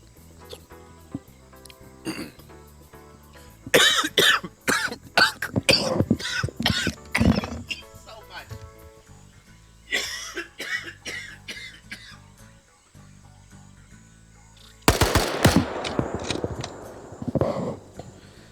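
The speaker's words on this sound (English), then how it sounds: "it went down the other hole into my lungs, and then I just had a coughing fit" A violent coughing fit after water went down the wrong pipe, with repeated harsh, close coughs in bursts, a short pause, then another loud spluttering bout with throat clearing.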